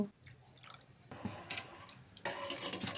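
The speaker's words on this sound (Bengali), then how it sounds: "সামান্য আরও একটু জল অ্যাড করব।" Water is poured into a Bengali parshe fish curry with green tomato and potato, giving a brief close splash and trickle in the pot with soft handling noise around it.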